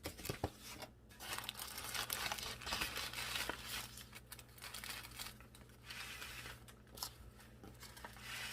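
Paper crinkles and rustles close up as cut seed potatoes are laid out on it, with irregular crackling handling sounds throughout and no talking.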